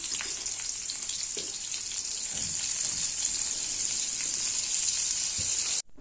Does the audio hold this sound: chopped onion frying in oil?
yes